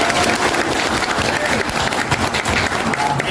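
A lecture-hall audience claps loudly and continuously, a dense, close burst of applause with no gaps across the whole few seconds.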